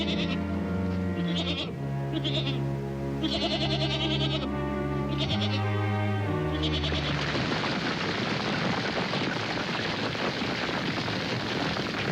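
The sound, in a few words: goats bleating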